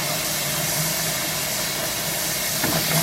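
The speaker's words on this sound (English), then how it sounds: "So I'm filling the bucket up." Water runs steadily into a bucket, a broad continuous hiss and rush that stays loud and even throughout with no talking over it.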